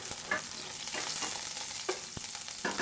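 Garlic frying in oil in a hot pan gives a steady close sizzle, with a few sharp clinks and stirring scrapes.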